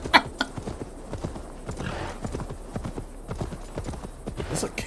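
Horse hooves in Assassin's Creed Valhalla clip-clop in a steady, moderately close walking rhythm over faint background ambience, with a brief whinny-like sound at the start.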